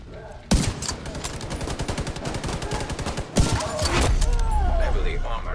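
Rapid automatic weapon fire from the video game The Division 2, loud sustained bursts with a heavy thump partway, while a voice shouts over the shooting.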